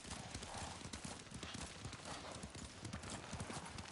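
Horse hooves clip-clop steadily on the ground in the video game Ghost of Tsushima, a continuous rhythmic trotting under a noisy, faint background.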